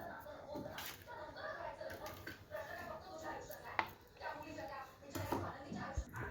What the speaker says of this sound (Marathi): थंड झाली ना थोडी चिरून घ्यायची